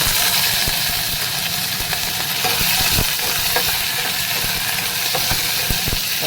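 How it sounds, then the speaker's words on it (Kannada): Curry leaves drop into hot oil already holding mustard seeds, cumin and fenugreek for a vegetable sambar, giving a steady close sizzle and crackle that runs throughout with no voices. "ಈಗ ಅದಕ್ಕೆ ನಾನು ಸ್ವಲ್ಪ ಕರಿಬೇವು ಹಾಕ್ತಾಯಿದ್ದೀನಿ"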